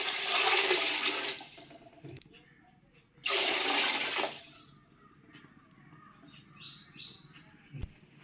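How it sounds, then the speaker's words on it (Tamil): Water pours into a pot of nonbu kanji rice porridge in two loud gushing bursts, then drops to quiet with faint birdsong in the background and a light knock near the end. "இப்போ தண்ணி சேர்க்குறேன்."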